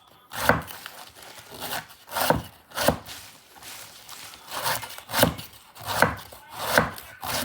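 Food chopped by hand with a knife on a wooden board, irregular clusters of sharp, close knocks and scrapes, quiet gaps between bursts, no talk.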